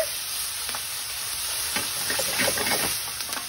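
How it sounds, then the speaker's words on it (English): Vegetables for ratatouille browning in a pan, a steady loud sizzle and hiss with scraping, clattering stirs picking up toward the end. "I'm just gonna give that a stir."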